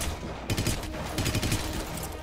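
Rapid gunfire bursts at heavily armored enemies in the video game Hitman: Absolution, a quick volley of close, sharp shots lasting about two seconds.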